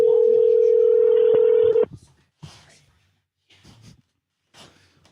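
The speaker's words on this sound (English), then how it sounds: "Answer the phone, damn it." A telephone line rings during a prank call, a loud steady tone lasting about two seconds. Faint voices and studio noise follow it.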